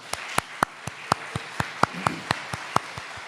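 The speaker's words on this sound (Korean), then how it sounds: "우리 박수 한번 주실래요?" A church congregation at a Sunday service in Dortmund claps in slow, even unison, about a dozen sharp beats spaced roughly a quarter second apart, moderately loud and with no voices over it.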